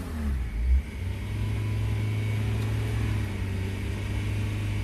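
A Renault Clio 3 engine revving with its accessory belt removed: a close, steady mid-pitched engine drone with a short rise in revs near the start, then an even hum, no speech.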